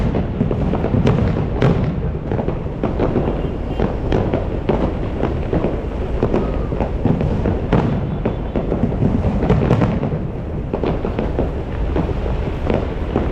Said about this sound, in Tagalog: Fireworks sa harap ng SM.